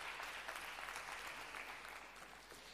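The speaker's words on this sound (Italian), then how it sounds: "E anche lui lo applaudiamo" Steady applause from an audience at an Italian panel event, a continuous dense clapping wash at moderate level with no talk over it.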